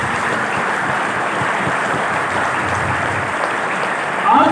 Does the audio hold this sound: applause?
yes